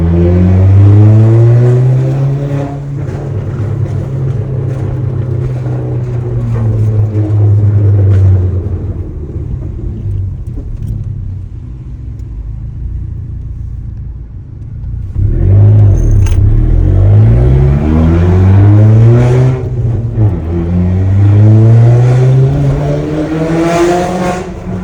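An Audi A3 8P, driven for the first time in months, roars close and loud as the engine revs up and down through gears, a strong drone swelling and falling with a quieter coasting stretch in the middle.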